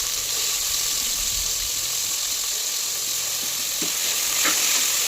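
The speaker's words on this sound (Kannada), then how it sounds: "ಹಾಗೆ ಈರುಳ್ಳಿಯನ್ನು ನಾನು ಹಾಕಿ ಫ್ರೈ ಮಾಡ್ಕೊತಾ ಇದ್ದೀನಿ." Onion and tomato frying in oil for pulao give a loud, continuous close sizzle with a few faint stirring scrapes and clicks, no voices.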